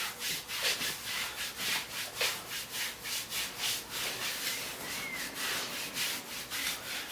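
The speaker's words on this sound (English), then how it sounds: "Rubbing can go in any direction. And as you can see with rubbing, there's 2 directions to it." Hands rub back and forth over skin during a qigong massage, giving a steady rhythmic swishing of about two strokes per second, close and soft with no talking.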